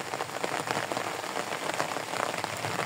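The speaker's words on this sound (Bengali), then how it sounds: "গতকাল রাত থেকে প্রচণ্ড বৃষ্টি" Heavy rain pouring steadily outdoors on a vegetable plot of brinjal, chilli and tomato plants, a dense even hiss of drops on surfaces with no break and no voices.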